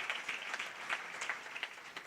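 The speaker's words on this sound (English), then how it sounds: "they deserve a round of applause" Faint, distant applause from a crowd at an official unveiling event, a steady patter of many hands clapping throughout.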